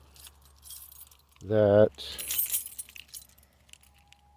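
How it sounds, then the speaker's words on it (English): Car keys jangle briefly and fairly loudly for about half a second, set among scattered rustles and handling noises, with a voice heard faintly nearby. "I have one of those funky keys."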